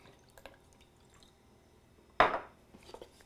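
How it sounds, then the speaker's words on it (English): Worcestershire sauce splashed into a pan of sauce for a cottage pie burger, a single short liquid splash standing out clearly in an otherwise quiet kitchen, followed by faint small clinks. "a couple splashes of Worcester sauce"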